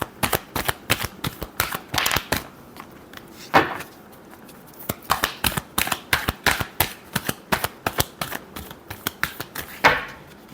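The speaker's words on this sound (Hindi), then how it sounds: "Last shuffle." Tarot cards shuffled in quick bursts of crisp riffling snaps, close and fairly loud, with brief pauses between rounds and no talking.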